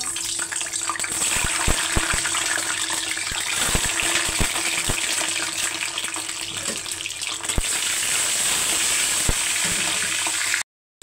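An egg frying in hot oil in a wok with chopped onion, turmeric, chili powder and ginger paste gives a steady, close, crackling sizzle throughout, cutting off into a brief silence near the end.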